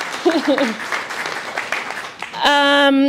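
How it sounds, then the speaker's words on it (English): Audience applause at a guide dog graduation ceremony on a California campus, a steady patter of clapping under a speaking voice, ending with a brief tonal sound. "I think it's worth a round of applause"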